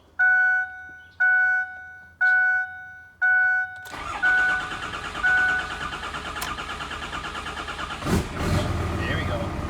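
A Cummins 6.4 diesel truck engine cranks in four separate attempts with a pause between each, then catches and settles into a steady idle. A brief voice is heard near the end.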